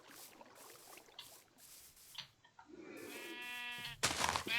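Sheep in the video game Minecraft, several close, wavering bleats in quick succession, the last ones loudest, over faint background noise.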